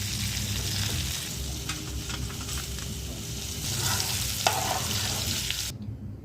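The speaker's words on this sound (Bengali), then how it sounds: "ভাজাগুলো হয়ে গেছে, এবার তুলে নেবো। হাতাটা নিয়েছি তুলে নেওয়ার জন্য।" A mixed vegetable fry sizzles loudly and steadily in the pan, broken by scraping ladle strokes as it is scooped out, before the sound cuts off abruptly near the end.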